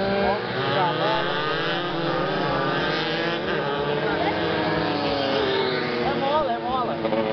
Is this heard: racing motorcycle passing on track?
yes